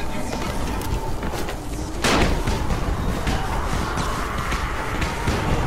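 A sharp explosive bang cuts through a dense, noisy soundscape in the video game Dying Light, followed by scattered smaller pops and crackles of firecrackers.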